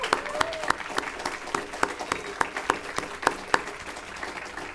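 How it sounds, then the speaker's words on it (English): Scattered handclaps from a small audience, sparse and uneven rather than a full ovation, with faint murmuring in the room. "let's give everybody a round of applause for everything we've seen tonight"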